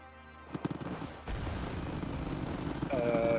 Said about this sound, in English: That's a little excessive on the mortars.